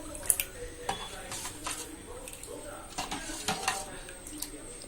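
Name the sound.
stirring turmeric powder into coconut rice mixture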